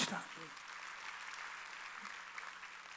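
A church congregation at a Wednesday worship service applauds, a faint, even wash of clapping that holds steady, carried along after a brief voice at the start.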